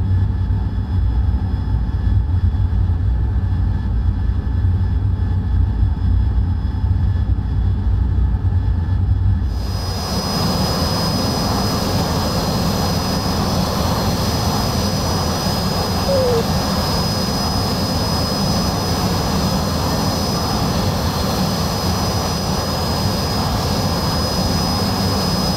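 Loud, steady roar of an AV-8B Harrier jet engine in the DCS flight simulator, with a sharp jump in intensity partway through as the engine spools up, then a sustained, full-band rumble.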